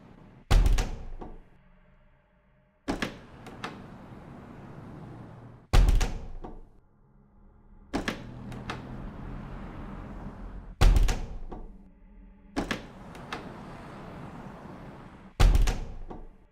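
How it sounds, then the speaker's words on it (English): Repeated door opening and closing in the horror video game Welcome To The Game 2, six loud close thuds spaced a few seconds apart, each followed by a muffled stretch of outside ambience, with no talk. "the sound of the actual door opening and closing is always the same"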